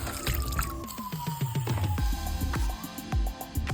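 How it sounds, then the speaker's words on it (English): Water poured into a cast iron skillet while gravy is being made for smothered chicken, heard as a run of close sizzling pops, drips and splashes with a brief rising pour at the start, with no voices. "I'm gonna add a little bit more water"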